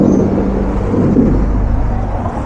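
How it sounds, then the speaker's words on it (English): Steady road traffic roars nearby in Scotland, a continuous low rumble of passing cars with no break, fairly loud throughout. "Bit noisy with the traffic."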